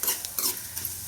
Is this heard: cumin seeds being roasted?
yes